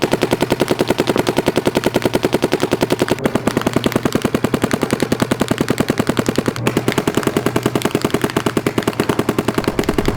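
Paintball guns fire in a rapid, steady stream of sharp pops, loud and continuous with only brief breaks.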